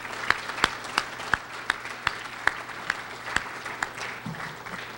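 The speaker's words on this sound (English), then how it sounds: "let's give them a round of applause tonight as well" An audience at an NHRA awards ceremony in Hollywood gives the champions a round of applause, heard as a soft crowd patter with a dozen or so sharp, evenly spaced claps standing out close by.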